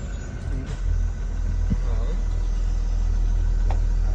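A school bus rolls forward slowly at about five miles an hour, its engine rumbling steadily and close, with a soft brake stop partway through and no one talking.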